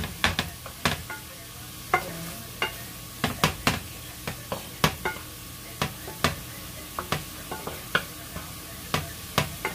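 Ground beef browning in a pan for burritos at a home kitchen, a soft steady sizzle broken by frequent sharp scrapes and taps of a utensil stirring, close and moderately quiet, no talk.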